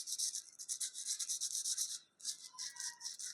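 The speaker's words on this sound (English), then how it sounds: "if you rough the nail, the rust will remove" An iron nail is roughed to strip off rust, giving a continuous, close scraping rasp in quick repeated strokes, briefly pausing partway before resuming, with no talking.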